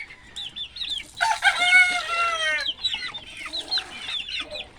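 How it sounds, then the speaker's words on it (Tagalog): A fighting rooster lets out a long, loud crow while other chickens cluck and chirp around it, busy and nearby. "Naroon pa maraming manok sa kabila,"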